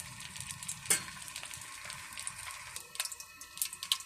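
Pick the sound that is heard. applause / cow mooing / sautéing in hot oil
sautéing in hot oil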